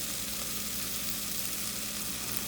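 Okra frying in a pan of browned onions, giving a close, constant hiss of sizzling oil that stays even and unbroken, with no talk.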